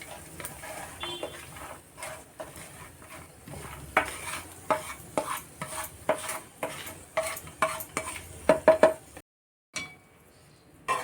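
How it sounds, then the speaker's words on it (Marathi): Pumpkin seeds roasting a little at a time in ghee, giving sharp scattered pops and clicks with a faint sizzle underneath, close up and growing busier before a brief silence. "हे आपण थोडं थोडं याच्यात तुपात भाजून घ्यायचं. भोपळ्याच्या बिया उडतात."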